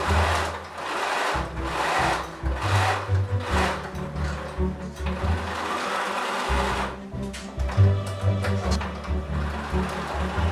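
A home sewing machine stitching a thrifted blanket into a coat, running in close, loud bursts of rapid whirring with short pauses and a longer stop before it starts again.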